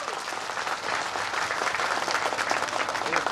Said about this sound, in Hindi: ताली जोर से बजाओ।